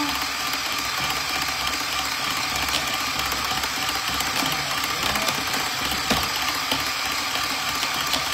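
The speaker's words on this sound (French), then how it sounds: "on va monter une chantilly bien ferme" An electric mixer whipping chantilly cream to firm peaks, a steady loud mechanical whir with a rattling, gear-like texture running unbroken throughout, no voices.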